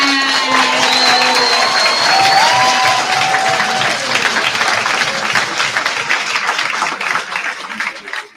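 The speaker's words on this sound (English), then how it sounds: "Another round of applause to our winner" Loud, steady applause from an awards-ceremony audience at the Eastern Cape Innovation Challenge, honouring an automotive-sector winner, with some cheering mixed in; the clapping holds strong throughout and thins slightly toward the end.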